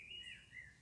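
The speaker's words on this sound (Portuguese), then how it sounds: "Você ouviu o pássaro cantando?" A bird sings outdoors under an open sky, a few thin chirping phrases rising and falling over quiet background hiss, faint and somewhat distant.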